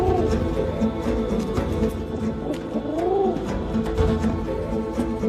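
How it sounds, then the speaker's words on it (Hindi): Homing pigeons coo softly and repeatedly nearby, their low rolling calls rising and falling over a steady background murmur, with no talk over them. "इन कबूतरों को तमाम इस्लामी जमीनों की तरफ उड़ने की तरबियत दी जाती है।"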